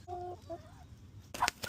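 A chicken's short clucks and a drawn-out call, moderately close, followed by a brief sharp burst of noise.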